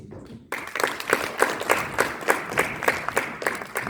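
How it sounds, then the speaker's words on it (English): After a brief quiet moment, the chairs at a Model UN conference break into applause: moderately loud, fairly close clapping with a pulsing rhythm that continues to the end. "And now, round of applause from the chairs."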